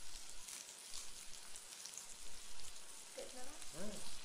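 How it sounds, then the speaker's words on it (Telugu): Chicken fries on a hot tawa with a soft, steady sizzle while the pan is tossed and stirred, a faint cooking hiss throughout, with brief voice sounds near the end. "పాన్నే తిప్పుకుంటూ ఉండాలి, ఇలా కదుపుకుంటూ ఉండాలి."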